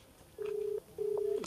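An outgoing phone call rings back in two steady tonal pulses, each about half a second long with a short gap, heard faintly and cleanly through the handset with no talk.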